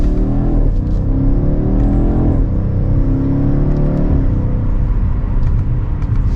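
A 2023 BMW X6 M Competition accelerating hard in sport mode with the exhaust open, engine rising in pitch through several quick upshifts, each marked by a brief drop, heard loud and close from inside the cabin.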